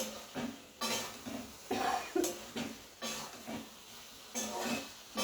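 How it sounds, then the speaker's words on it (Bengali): Spice paste with red chilli powder and mustard being stirred and sautéed in a pan for a Bengali catla fish curry with potato and pointed gourd, with repeated scraping clinks of a spoon against the pan and a soft sizzle. "খুব ভালো করে আবার কষিয়ে নিচ্ছি।"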